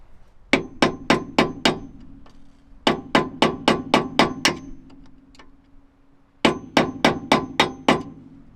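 A hammer strikes a screwdriver against metal in quick bursts of about five ringing blows each, three rounds separated by brief pauses, loud and close, while fitting new suspension on a Honda Civic Si.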